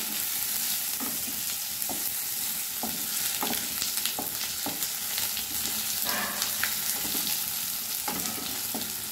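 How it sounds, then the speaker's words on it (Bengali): A tempering of bay leaf, dried red chilli and cumin seeds fries in hot oil, giving a loud, continuous close sizzle broken by scattered crackles and scrapes of stirring. "এবার ফোড়নটা একটু ভেজে নেব।"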